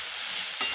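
Shredded cabbage frying in a pan is stirred for a brief moment, a soft sizzle with a quick scraping stir near the end, fairly quiet and without speech.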